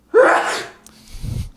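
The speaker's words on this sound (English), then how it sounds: "Or sneeze." A single loud, close human sneeze, a sharp burst with a sudden onset that tails off, followed by a brief low rustle.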